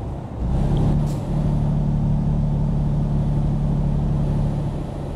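A truck engine in Euro Truck Simulator 2 drones steadily with a low, even hum through all five seconds, holding near 1400 to 2000 revs while touring UK roads around Manchester, loud and alone with no talking.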